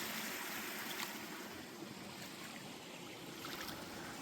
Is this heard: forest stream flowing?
yes